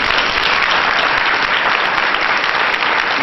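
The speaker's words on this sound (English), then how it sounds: "Let's have a big round of applause for" A crowd at the Black And Gold Idol 2010 event gives Willie and Pam a big round of applause, loud, dense and sustained clapping throughout, with no pauses.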